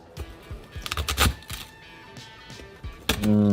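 A series of sharp crackling crunches comes in irregular bursts as a knife cuts through crispy roast pork belly, followed by a louder scraping rattle at the end.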